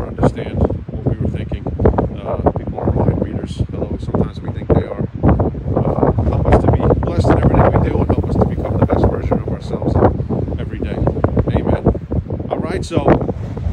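Strong wind at an empty marina buffeting the microphone in a dense, continuous roar of gusty rumble, loud and close throughout with no pauses.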